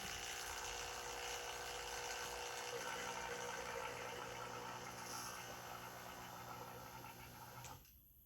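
A steady mechanical hum and whine of a vacuum pump evacuating a refrigeration system, running continuously, fairly faint, then cutting out near the end.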